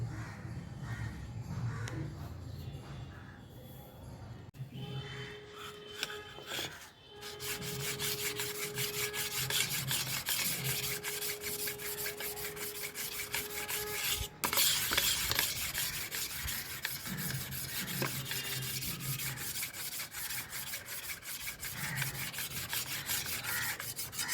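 Steady, faint rubbing and filing strokes on a carbon steel kitchen chopper blade, a continuous close scraping texture with a few thin metallic tones, no talk.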